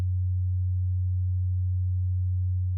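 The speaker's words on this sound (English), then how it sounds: "each output generates only a pure sine tone, which you should hear now" A pure sine tone from a quad operator FM synthesizer, one steady, clean low hum held evenly for the whole stretch, with no other sound.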